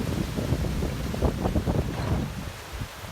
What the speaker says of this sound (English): You can see the wind here. You can hear the wind.